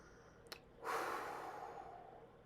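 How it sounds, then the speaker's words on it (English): A single deep breath drawn in and let out slowly, soft airy rush after a brief click, close and alone in a quiet room during a psychic medium's session. "take a deep breath with me"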